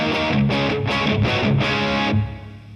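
Electric guitar played through heavy distortion rings out in five loud, sustained strummed chords, one after another, then the last one fades out. No voices.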